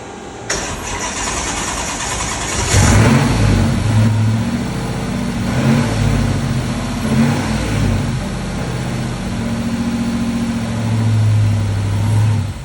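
A Hellcat-swapped Chevrolet S10 truck with a Holley-controlled engine cranks and fires for the first time, catching into a loud, lumpy, uneven idle with deep throbbing pulses and slight revs close by.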